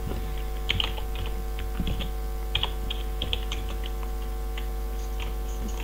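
A computer keyboard is typed on to enter a Minecraft command, with short bursts of close, crisp keystrokes over a steady low electrical hum.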